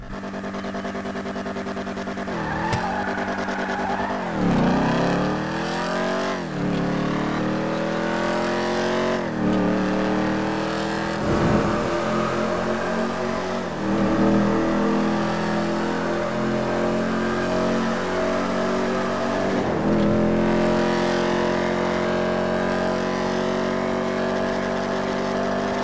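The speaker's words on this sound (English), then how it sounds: "This is actually one of the loudest, but not like a growling loud, but sort of like a nice crispy loud" Imponte Arona muscle car from GTA 5 revving hard, its crisp, loud engine note rising and falling through repeated throttle blips and sweeps, sustained and close with no talking.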